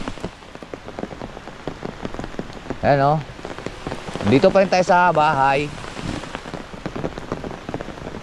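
Rain falling steadily on surfaces outside a house in the Philippines during flooding season, a constant close patter, with people talking and calling out over it.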